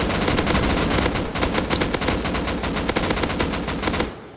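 Rapid automatic video game gunfire as a whole magazine is emptied, a loud dense burst of shots fired in quick succession that runs for several seconds before cutting off.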